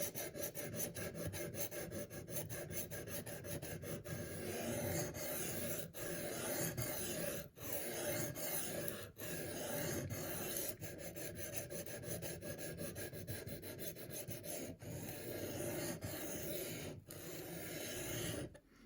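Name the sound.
wiping off a knife sharpening stone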